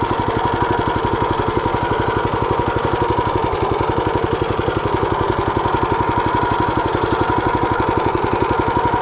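Engine of a potato digger running at 380 rpm while lifting potatoes in a garden plot: a steady, fast-pulsing mechanical chug that is loud and close and continues unbroken, with no talking.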